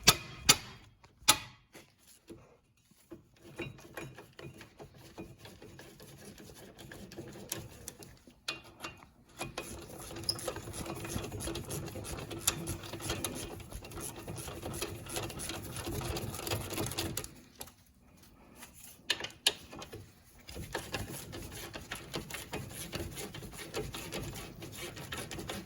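A ratchet clicks rapidly and repeatedly while removing two 15 mm caliper bracket bolts on a Lincoln Continental, with short pauses between bursts of steady mechanical ratcheting.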